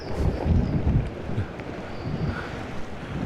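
Storm wind blowing hard along a flooded Maltese seaside, rumbling gusts buffeting the microphone over the wash of waves, loud and continuous with no voices.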